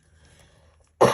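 A woman lets out a single sharp, close cough after near silence, abrupt and loud at the end.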